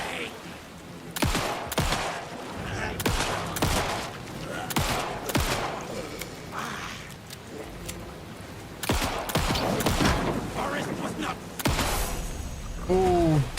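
Dense video game gunfire, repeated loud shots and bursts spread through the stretch with whooshes and impacts, a voice reacting over the firing.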